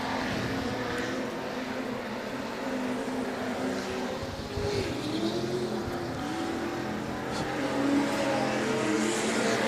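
V8 Commodore Super Stocker race cars lapping Rockhampton Speedway, engines droning steadily at a distance with rising and falling pitch as cars circle the dirt oval, under a constant roar from the rest of the field.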